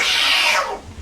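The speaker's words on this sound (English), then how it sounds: "You got the attack cat." A cat gives a single long, loud, drawn-out meow that fades at the end, close by and without speech over it.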